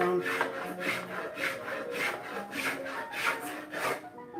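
Rhythmic rasping strokes of a tool scraping a wooden violin plate to thin it, about ten even passes at a steady pace, close and fairly loud.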